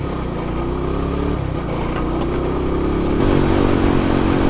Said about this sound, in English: that tingling sound that's coming from the rear is really loud